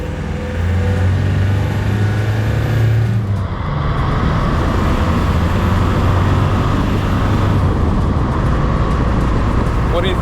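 1997 Land Rover driving uphill, its engine drone and road noise steady and loud from inside the cabin, with a gear change or shift in tone partway through.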